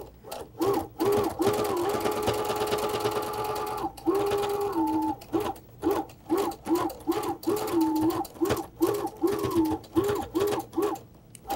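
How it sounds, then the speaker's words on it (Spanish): Sewing machine running a safety seam on a plush Hello Kitty pillow, bursts of rapid mechanical whirring and stitching broken by short pauses, close and clear with no talk. "Le pasamos otra costura de seguridad."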